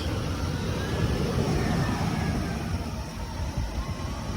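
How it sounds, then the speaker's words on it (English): A jump-started Ford Explorer at a city vehicle auction idles steadily, a low continuous engine hum with a faint higher whine riding over it and no voices. "Engine sounds pretty good on this one,"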